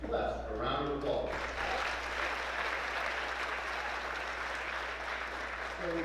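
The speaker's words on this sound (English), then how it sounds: "Please join me in giving CLEF a round of applause." Audience applauding at the Golden Apple award ceremony, a dense, steady wash of clapping filling a large hall, with brief voices audible at the very start before the ovation carries on evenly.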